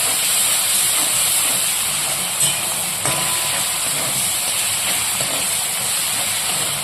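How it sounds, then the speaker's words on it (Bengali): Steady, loud sizzling hiss of ginger, garlic and green chilli paste frying and being stirred in a pan. It holds unbroken throughout, with faint scrapes now and then. "এবার এটাকে আমি ভালো করে মিক্স করে নেব যাতে আদা রসুনের কাঁচা গন্ধটা চলে যায়"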